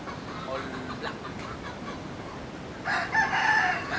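Rooster crowing in a backyard poultry yard among chickens, a loud nearby crow rising near the end after a stretch of quieter background clucking and yard noise.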